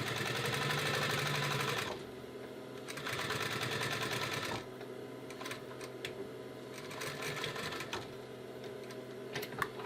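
A walking foot sewing machine stitching an ottoman cover for a coffee table runs in steady, loud mechanical bursts, pausing briefly between runs, close by with no talk.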